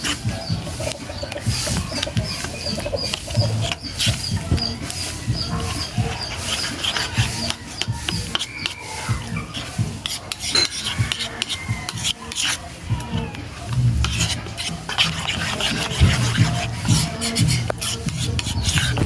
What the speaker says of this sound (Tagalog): Start na harina. Haluin na po.